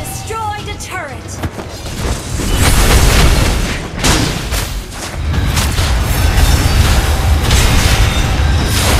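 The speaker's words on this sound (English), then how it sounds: "Your team destroyed a turret." Turret destroyed in the Mobile Legends video game, heavy booming explosions and crashing blasts layered over loud game effects and voices, dense and continuous at close range.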